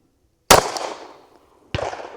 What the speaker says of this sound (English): And this will be my last shot